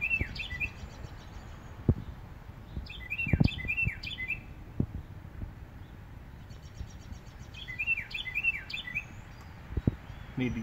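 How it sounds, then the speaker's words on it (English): A small bird sings a mating song in short, repeated bursts of high chirping phrases spaced a few seconds apart, fairly faint against quiet outdoor background noise with occasional knocks. "Little bird trying to get himself a mate."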